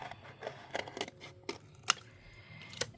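Scissors cut a paper card layer for an inked, embossed Christmas card, giving a handful of crisp, close snips at uneven intervals with quiet handling noise between them.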